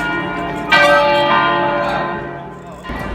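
A church bell rings out at a steady level, its sustained tone swelling at one point and then slowly fading, with no one speaking over it.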